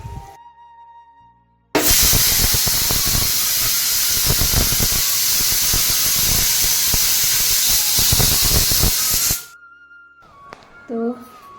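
A pressure cooker holding dal and potatoes lets out a loud, steady blast of hissing steam for about seven seconds, then cuts off to quiet kitchen sounds and faint clinks.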